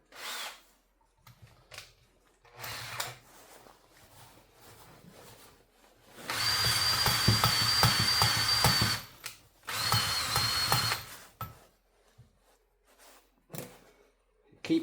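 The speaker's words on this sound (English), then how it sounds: "I'm going to use a hand drill." A hand drill grinds engine valves with grinding paste during a Leyland 154 tractor restoration, running in several bursts of whirring and gritty rubbing separated by pauses.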